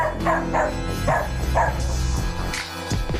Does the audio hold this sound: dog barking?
yes